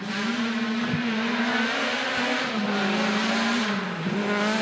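A Renault Clio R3 rally car at full throttle on a stage of the Jänner Rally, its engine howling steadily close by with small dips at gear changes.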